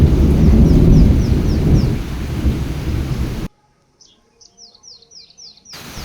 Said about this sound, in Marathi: किती छान असा पक्ष्यांचा किलबिल